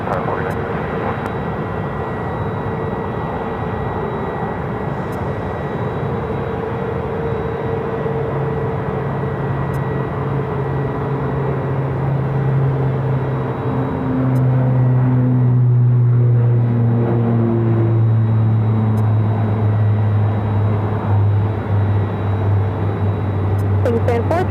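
An airliner taxiing to the ramp at Phoenix Sky Harbor airport, a loud, steady engine rumble and whine that holds throughout and swells a little partway through, close by and continuous, with no talking over it.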